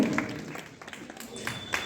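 Audience applause at a memorial gathering with a free medical camp in Viramgam, moderately loud scattered clapping that gradually thins out.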